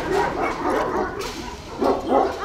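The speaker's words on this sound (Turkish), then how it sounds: "İşte bu Anadolu çoban köpeği." A large Kangal Anatolian shepherd dog on a farm gives deep, close barks in two bursts, one at the start and one near the end, with a short lull between them.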